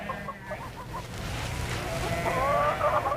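Farm chickens bought from villagers on the Silk Road in China cluck in short repeated calls at moderate distance, over a low background rumble, with a busier stretch of clucking toward the end.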